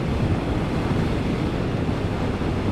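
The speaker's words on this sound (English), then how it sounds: "Right, it is a bit windy today." Steady, heavy wind buffeting a microphone, a dense low rumble that roars continuously without a break.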